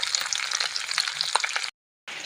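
Salted singhi fish crackles and spits in hot oil, a dense, close sizzle with scattered pops that cuts out briefly near the end before resuming; no one speaks.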